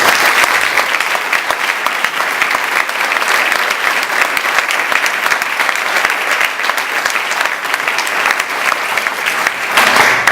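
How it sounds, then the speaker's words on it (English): Sustained, loud applause from a celebrity roast audience for food donors, an even roar of many hands clapping without a break for about ten seconds. "Let's give them another round of applause."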